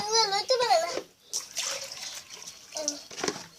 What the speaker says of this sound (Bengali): সব পানি ঢালো